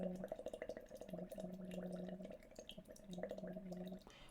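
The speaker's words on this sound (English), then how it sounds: "So if I'm blowing bubbles in water" Bubbles blown through water, likely through a tube, gurgle steadily while a sustained voiced hum rides on top during a voice exercise, in two long stretches with a brief pause between.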